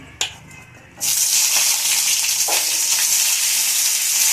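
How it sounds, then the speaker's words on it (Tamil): Onions dropped into hot oil for a kaara chutney: after a brief quiet moment with a small clatter, a loud, close sizzle bursts up and continues steadily. "இப்போ எண்ணெய் காஞ்சிடுச்சு. முதல்ல வெங்காயத்தை போட்டு துவக்குவோம்."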